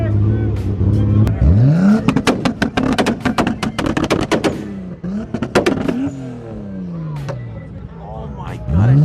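A Nissan Skyline at a car meet fires its two-step launch control, the exhaust crackling and popping in a rapid, very loud burst of bangs over the revving engine, with people exclaiming nearby.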